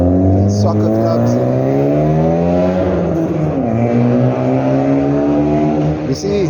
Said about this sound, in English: I'm sure you can hear that idiot with his loud exhaust.